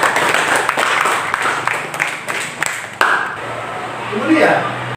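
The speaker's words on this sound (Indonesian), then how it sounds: "tepuk tangan untuk mereka bertiga dong" A school audience claps for three students. The clapping is a dense, fairly loud patter that runs about three seconds, with a speaker's voice over it, and then thins out.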